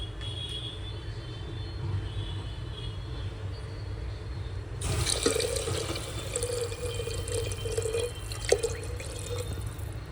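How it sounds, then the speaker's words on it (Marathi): Water pours steadily into a pot of mixed lentils partway through, a sudden rush of splashing that keeps going over a low background hum. "आता ह्याच्यामध्ये आपण पाणी टाकूया."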